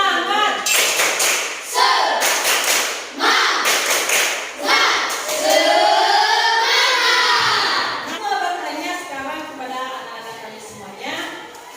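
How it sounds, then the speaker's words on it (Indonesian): A classroom of students performs a rhythmic spirit clap, bursts of group clapping and thumping in patterned beats mixed with loud chanted voices. "Oke, mulai 1, 2, 3. Tepuk semangat."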